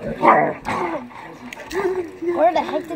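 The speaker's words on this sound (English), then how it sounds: "Where the heck did that dog come from?" A dog barks and whimpers in short yips and whines, close by and mixed with people talking over it.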